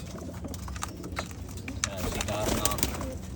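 Racing pigeons in a breeding loft give soft low coos under someone talking close by, with scattered wing flutters and shuffling.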